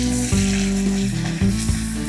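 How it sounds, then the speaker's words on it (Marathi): Tomato frying in hot oil with garlic in a home kitchen, a loud steady sizzle with a few stirring knocks. "टॅमॅटो टाकते,"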